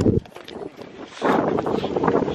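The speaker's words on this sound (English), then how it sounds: "but it's actually really windy and really cold." Gusty wind buffets the microphone, rumbling low and steady with a louder burst toward the end.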